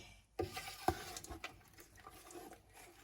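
Spoon stirring strawberry jam and sugar in a pot, a few quiet scraping knocks and soft wet swishes, faint and close with no talk.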